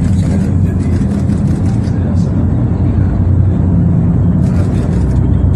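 Congested road traffic in a jam, a dense steady rumble of engines and tyres close by, loud and continuous with a few brief hiss bursts, no talk.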